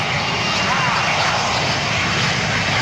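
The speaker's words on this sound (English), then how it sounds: "This is Gulfstream IV taking off." A Gulfstream business jet takes off at an airshow, its engine roar a loud, steady broadband rush that fills the whole stretch without letup.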